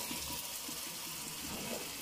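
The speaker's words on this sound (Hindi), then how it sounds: "ये पानी तो डालना ही है इसमें।" Water pours steadily into a pot of Amritsari chickpea curry, a continuous close rushing wash with no pauses.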